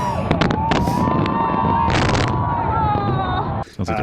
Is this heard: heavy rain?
no